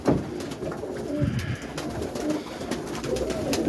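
Roller pigeons coo in their loft, making low, soft, repeated throaty calls up close, with light rustling around them.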